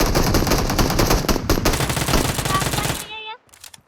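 Rapid automatic gunfire from PUBG Mobile rattles loudly in a dense burst for about three seconds, then cuts off into a few faint trailing shots.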